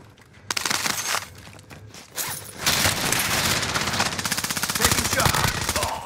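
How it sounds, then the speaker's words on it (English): Gunfire in the video game Call of Duty Warzone on Rebirth Island, with sharp shots and then a loud continuous automatic burst of rapid fire that is close and dominant, brief calls from players mixed in. "Getting shot, Andrew."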